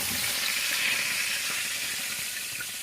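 An omelette mixture cooks in a pan, giving a steady, close hiss and soft bubbling sizzle that holds evenly throughout, with no voices.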